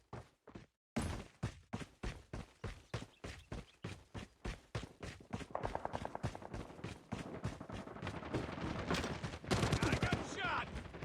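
Rapid gunfire from the mobile shooter Call of Duty Mobile rattles out in loud, evenly spaced bursts, starting with a few isolated shots and then merging into dense, sustained automatic fire.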